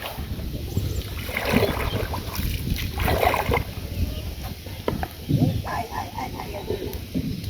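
A rowing boat moving through rainy-season floodwater on a morning trip to gather water lilies, with uneven watery sloshes and paddle strokes under steady wind noise.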